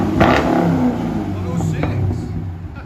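Chevy Camaro SS with a 6.2L V8, rear muffler delete and 5-inch tips, rumbling at a steady loud rev with a brief throttle blip, deep and close throughout.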